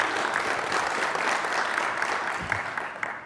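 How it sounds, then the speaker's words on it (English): A conference audience gives brief, steady applause for two speakers taking the stage, a dense patter of clapping that tapers off near the end. "So give a big warm applause for AJ and Chandra."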